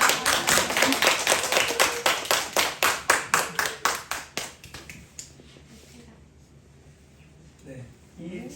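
An audience claps at a poetry and arts event, a dense burst of applause lasting about five seconds, then dying away to scattered claps and a quiet room.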